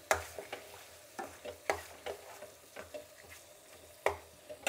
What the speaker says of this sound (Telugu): ఇది 2 నిమిషాలు వేయించుకుందాం